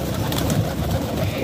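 Pigeons in a loft coo in a dense, continuous murmur, many birds close by layered together, with soft rustling underneath.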